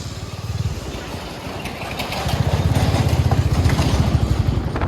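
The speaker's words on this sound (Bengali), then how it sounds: "বাতকুল্লা মোড় দিয়ে বাইক নিয়ে যাব" Motorcycle engine droning while riding along a foggy road, a steady low rumble that grows louder and more pulsing partway through, close and continuous.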